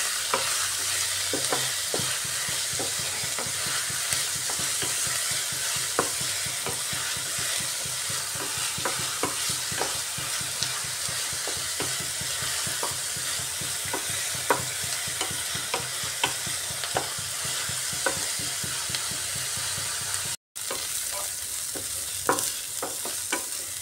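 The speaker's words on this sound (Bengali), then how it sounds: "এই রেসিপিতে পেঁয়াজটা একটু কড়া করে ভাজতে হবে।" Chopped onions fry hard in hot oil in a pan for a home-style tandoori egg curry, a steady sizzle broken by frequent scraping stirs of a spoon, close and continuous with no talking.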